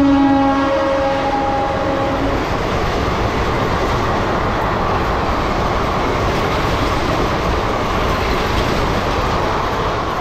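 A local train at Balasore station sounds a horn at the start, then rumbles and clatters loudly and steadily along the track, with no voices.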